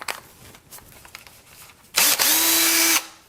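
A power drill with a new bit whirs up loudly for about a second at a steady high pitch, after some quiet handling and clicks.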